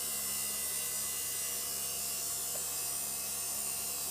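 A motor-driven tire truer cuts a foam tire for a 1/10 or 1/12 scale RC car, giving a faint, steady electric hum and whir that holds level for a few seconds with no voices.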